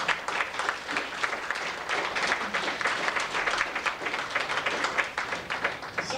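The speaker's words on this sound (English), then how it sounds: "So let's give a big round of applause." An audience at a summer leadership banquet claps loudly and continuously, a dense patter of many hands sustained throughout without talk.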